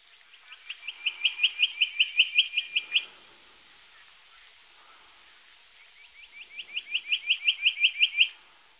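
Two runs of rapid, high, thin piping notes, each swelling in loudness then stopping, separated by a quiet pause; a spotted quail-thrush calling alone.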